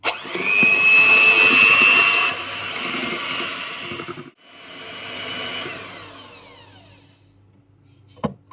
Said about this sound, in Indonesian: Gula sudah ada, kita mixer sebentar, baru setelah itu masuk telur.